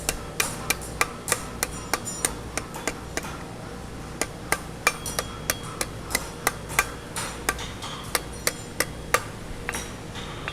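Blacksmith hammering a horseshoe on an anvil to cup it, a long run of sharp, ringing metallic blows at a steady, unhurried pace, each strike distinct and close, with no voice over the hammering.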